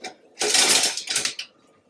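A metal spoon rattles against dishes in a home kitchen while wings are being prepared: a short, bright burst of clinking and clattering lasting about a second, with a brief second flurry before it stops.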